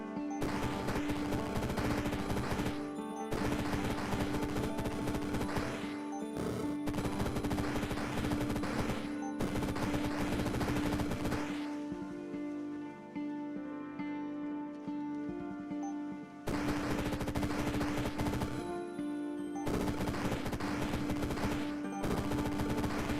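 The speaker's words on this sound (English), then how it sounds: "And now bullets. Just a lot of bullets." Rapid video-game gunfire erupts in long, dense bursts of several seconds each, separated by short gaps, with a steady tonal music bed running underneath throughout.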